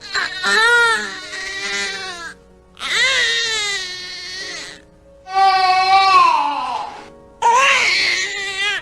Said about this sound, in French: voici le son IR, qui signifie que le bébé est gêné par des gaz inférieurs.